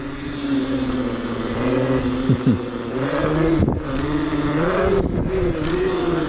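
An electric bike with an MY1020 motor rides along a road with a steady, low motor hum, wind rush and tyre noise. The hum dips and swells briefly as the rider changes speed.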